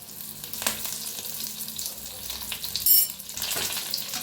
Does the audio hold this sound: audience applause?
no